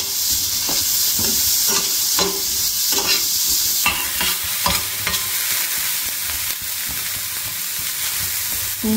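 Onions, green chillies, curry leaves and turmeric frying in a pan, a steady close sizzle broken by repeated rhythmic scrapes and clacks of a spoon stirring through the mixture.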